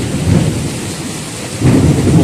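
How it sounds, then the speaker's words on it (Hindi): Sudden night thunderstorm with a low rolling rumble of thunder over heavy rain, loud and continuous, with no voices. "और मेघ भी गरज रहा है भाई,"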